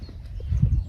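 A horse's hooves clip-clop on the floor of a stable in one brief, soft, muffled burst of low knocks, with no talk.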